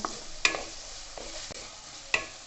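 A ladle working through pav bhaji vegetables in a pot, a few separate soft squelching knocks and scrapes spaced irregularly, close and fairly quiet, with no voices.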